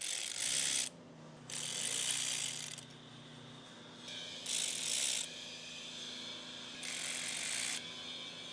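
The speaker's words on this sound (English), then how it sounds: "you're just going to need to take an 8mm for that, loosen those up, and take those out" Ratchet loosening 8 mm rocker arm bolts on a ZL1 engine: four bursts of rapid clicking, each about a second long, separated by short pauses, close and alone.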